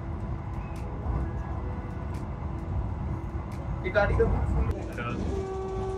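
Inside a Vande Bharat express train running at about 120 km/h between Kalyan and Shirdi, a low continuous rumble of the moving carriage fills the background while faint voices and brief clicks come and go.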